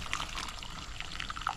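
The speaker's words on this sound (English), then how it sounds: "So, We'll pour some hot water over it." Hot water is poured over ackee fruit, a steady splashing trickle of liquid that runs continuously at moderate loudness, close to the microphone.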